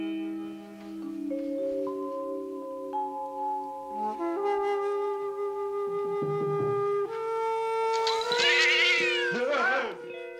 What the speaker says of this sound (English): It's only a dumb cat.